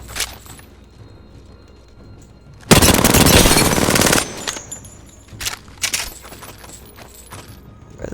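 Light weapon gunfire in the Apex Legends video game, a loud sustained automatic burst of rapid shots, followed by quieter clicks and clatter and a few short bursts.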